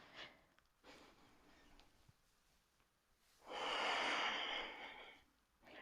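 Slow yoga breathing in a flowing practice: a soft, airy breath early on, then a long, louder exhale through the nose and throat lasting about two seconds, close up and with no speech.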